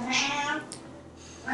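Cat meows indoors during a tabletop board game session: two or three close, fairly loud tonal mews at the start, then a quieter pause and another short meow at the end.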